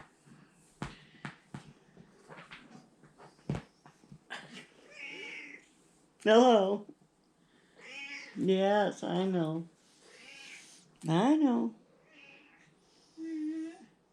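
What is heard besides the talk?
pet cat meowing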